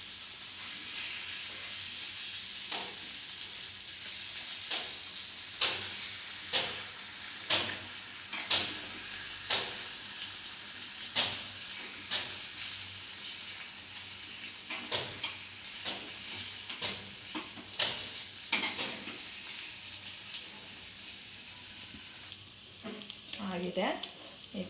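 An egg omelette sizzles steadily in oil inside a small karandi ladle, while repeated scraping and tapping knocks punctuate the frying as it is turned; a voice speaks faintly in places.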